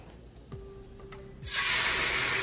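Curry leaves and star anise hit hot coconut oil after a couple of faint clinks, bursting into a loud, sustained spattering hiss close by.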